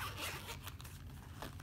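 A zipper on a pseudo hard soft-shell case for a wireless lavalier microphone, a faint, quick rasping pull lasting under two seconds, close up and alone.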